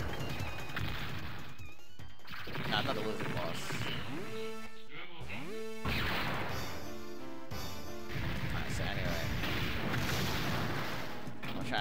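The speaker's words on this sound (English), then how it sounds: "Super missiles coming at you." Missiles and explosions in the 1994 arcade shooter Aero Fighters 2 come as dense, continuous booms and crashes mixed with game music and sweeping synth effects.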